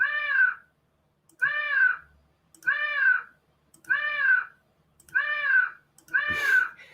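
Six cartoonish cat meows from a Scratch sprite repeat at an even pace, each short and clear with a silent gap after it. The last meow is overlapped by a brief click.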